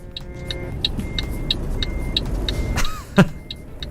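Trucks crawling through a traffic jam in Euro Truck Simulator 2 multiplayer with ProMods, a steady engine rumble under a regular ticking beat, ending with a brief louder thump.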